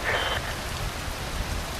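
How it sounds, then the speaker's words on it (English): Rain falls steadily in Metal Gear Rising: Revengeance, a dense, even hiss of drops across the whole stretch with no voices. "Wind blows. Rain falls."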